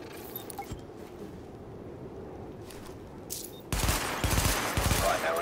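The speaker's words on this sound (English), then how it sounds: "Open fire at the highlighted targets." Gunfire in The Division video game during a weapon test at highlighted targets: a quiet stretch with a few faint shots, then a dense loud burst of rapid automatic fire in the final second and a half.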